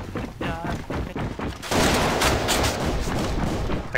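In a competitive shooter video game, a rapid burst of gunfire crackles over dense, overlapping shots and loud sustained volleys, close and harsh.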